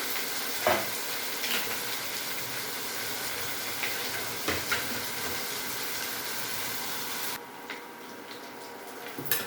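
Tempering sizzling in oil in a pan for an alasande (cowpea) palya, a continuous soft crackling hiss with a few stirring knocks, quietening near the end.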